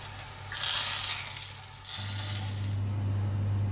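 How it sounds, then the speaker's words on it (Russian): Eggplant slices frying in oil, with bursts of bright sizzling and spattering up close, a hum running underneath, and the crackle fading toward the end. "Жареные баклажаны уже готовы."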